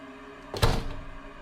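A door swings shut by itself as a horror story sound effect, a single solid thunk with a short rumbling tail over a quiet background.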